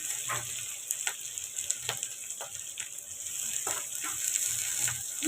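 Grated vegetables sizzling and frying in a hot pan for veg fried rice, a steady close hiss with light scraping stir strokes repeating throughout.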